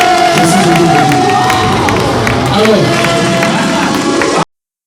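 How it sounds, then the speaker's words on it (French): Loud audience applause mixed with cheering and shouting voices from a lively crowd, sustained for over four seconds before cutting off abruptly to silence. "j'aimerais qu'on l'accompagne avec ses applaudissements."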